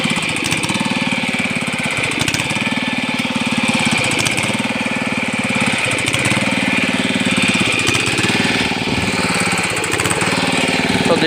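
A small engine with slightly clogged carburettor jets idles steadily nearby, a continuous, slightly uneven rapid putter that holds at a constant level throughout.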